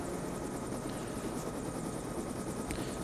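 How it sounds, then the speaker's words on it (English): A helicopter lands amid a firefight in the video game Call of Duty Black Ops II, its rotor a steady, close, chopping drone held at moderate level throughout, with no voices. "The chopper is still shooting rockets while landing"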